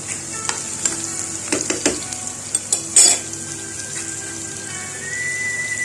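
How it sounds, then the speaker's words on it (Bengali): Chopped onions and tomatoes sizzle in a pan while a utensil stirs them with several sharp scraping clatters, the frying hiss steady and close underneath. "পেঁয়াজ কুচি টমেটো এগুলো সব দিয়ে দিয়ে হালকা একটু ফ্রাই করে নিচ্ছি"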